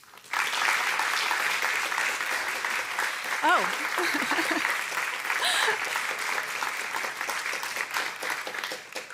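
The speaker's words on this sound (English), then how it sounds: "let's all give a big round of applause and welcome the ambassador to the stage" A full room applauds at the 2023 NATO Youth Summit in Brussels as an ambassador is welcomed to the stage: dense, steady clapping that sustains for several seconds, with a brief voice rising above it midway.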